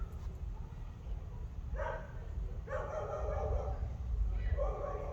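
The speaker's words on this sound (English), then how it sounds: "Quiet dog." A dog barks in short bursts at the side of a car being hand-washed with a ceramic SiO2 wash, the yaps fairly near and repeated over low background noise.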